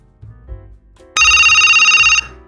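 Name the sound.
VoIP phone ringing on FreePBX call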